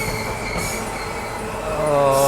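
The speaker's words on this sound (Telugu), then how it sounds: "సో మనం అయితే ఇప్పుడు రాజమండ్రి రైల్వే స్టేషన్లో అయితే ఎంటర్ అవుతున్నాము" Train pulling into Rajahmundry railway station, a close continuous rumble of wagons building in loudness as a rising wheel squeal rings out toward the end.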